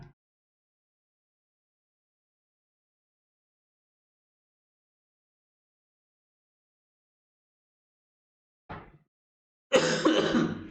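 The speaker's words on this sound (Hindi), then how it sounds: "सॉरी थोड़ा सा खांसी है" After long silence, a short throat noise is followed by a louder, rough cough near the end, close to the microphone.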